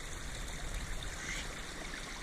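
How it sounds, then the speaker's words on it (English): Water flows steadily in a small creek, a soft continuous trickle and burble with no voices. "creek flowing down through there."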